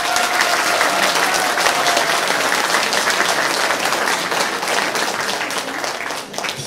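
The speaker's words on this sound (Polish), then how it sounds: "wielkie brawa!" An audience at a regional folk ensemble festival in Kałuszyn bursts into sustained applause, dense crowd clapping that stays loud nearly the whole time before thinning slightly at the end.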